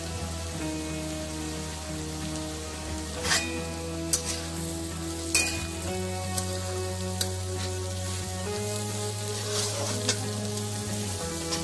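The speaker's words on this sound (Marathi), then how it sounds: "आता त्यामध्ये मी गाजर छान परतून घ्यायचं आहे।" Carrots and onion sauté in a pan for Schezwan fried rice, giving a steady soft sizzle with occasional clinks and scrapes from stirring.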